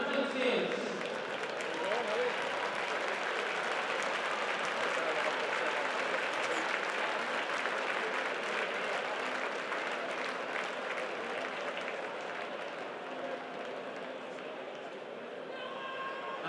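A rugby stadium crowd at Kingspan Stadium for Ulster against Northampton Saints applauds and cheers in a broad, continuous roar of clapping that holds steady throughout, with faint voices within the crowd.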